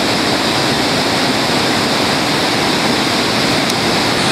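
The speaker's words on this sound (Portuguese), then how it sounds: "Por conta da força da água que vem de cima ali, ó." Cachoeira do Prata, a waterfall in Mato Grosso, roars loud and close as a dense, steady wash of falling water, continuous and unbroken, with no talking.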